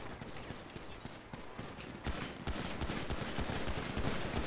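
Dense bursts of video game gunfire from a GTA gang shootout, crackling shots packed into a steady, loud volley that intensifies midway and keeps going without a break.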